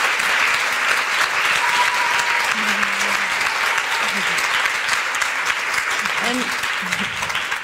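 Studio audience applause welcoming a guest to a talk show, steady and full throughout, with a few brief voices and tones poking through the clapping.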